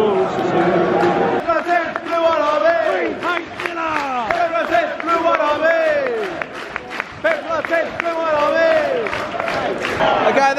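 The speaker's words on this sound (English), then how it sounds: "Okay, they just scored. That was the faintest cheer ever." Football fans of Birmingham City chant and cheer loudly at a match against Reading, a dense crowd roar filled with sung, wavering voices throughout.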